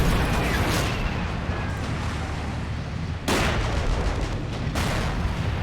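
Panzer V tank firing its cannon in the World War II strategy game Assault Squad 2, heavy booming blasts over a dense, continuous din of battle gunfire and explosions.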